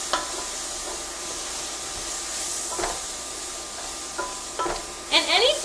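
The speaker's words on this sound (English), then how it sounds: "I'm gonna give my mushrooms a little stir here" Mushrooms are stirred in a pan over a faint sizzle, with several soft scraping strokes and a louder rustling scrape at the end.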